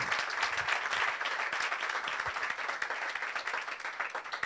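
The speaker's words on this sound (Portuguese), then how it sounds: "Uma grande salva de palmas para todos." A comedy show audience applauds the comedians, with dense, sustained clapping from a crowd that holds steady for the whole stretch.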